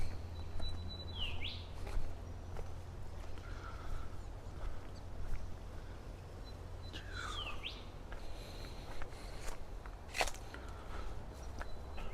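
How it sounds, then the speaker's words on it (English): Birdsong in a Tasmanian park: several chirps, whistled rising and falling calls and tweets, some near and some distant, over steady outdoor rumble and soft footsteps. "Hope you're picking up that bird song."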